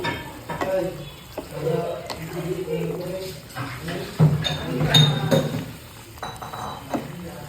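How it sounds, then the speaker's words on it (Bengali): Chicken korma stirred in a pan, spatula scrapes and clinks over a low sizzle, close and uneven, with a voice talking over it. "কোরমার একটু ভালো করে নাড়াচাড়া করব"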